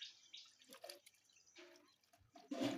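Water drips and trickles from freshly washed scent leaves resting in a filter, a few quiet irregular drops followed by a brief louder splash near the end.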